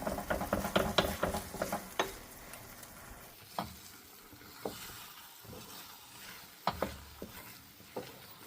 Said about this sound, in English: Now just mix it up, scramble it in the pan.